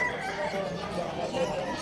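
Chickens clucking among caged fowl at the Bocue pet market in Bulacan, soft broken clucks mixed with nearby crowd chatter and voices.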